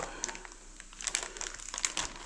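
Plastic zip bag holding a lemon lime soda pork marinade crinkles and rustles in short, faint bursts up close, with no talking.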